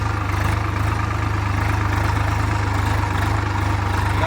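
A Swaraj 744 XT tractor engine runs steadily close by on a farm field, a loud low diesel throb with an even rhythmic pulse and no voices.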